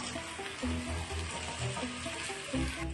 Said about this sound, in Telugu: తర్వాత మనము కాల్చుకున్న బరోటాని దాంట్లో వేసి కలపాలి.